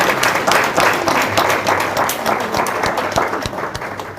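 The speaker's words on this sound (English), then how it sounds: "Let's give our panelists and our guest speaker a round of applause." Audience applause for panelists and a guest speaker at a community relations lunch-and-learn session, steady dense clapping filling the room from start to finish, close and fairly loud with no talk over it.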